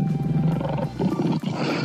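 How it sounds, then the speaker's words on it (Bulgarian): A lion roars with a deep, rough, sustained growl, close and powerful, briefly dipping before a second surge, with no talking over it. "Лъвът пък царствено реве."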